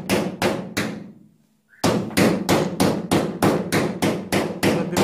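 Rapid, regular hammer taps tapping down high spots during paintless dent repair on a Korean-made car body panel, loud and close, with a brief pause before the steady knocking resumes.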